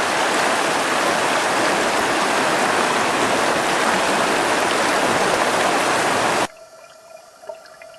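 Stream water rushing over rocks in Montana sapphire country, a dense, steady wash of noise close by that cuts off abruptly near the end, leaving faint background sounds.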